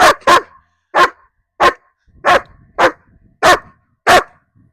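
A dog barks loudly and close by, eight sharp barks in a fairly regular rhythm with short pauses between them.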